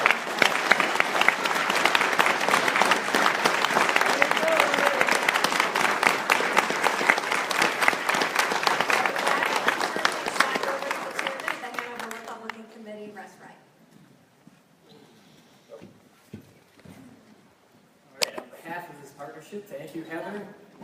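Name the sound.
round of applause for both candidates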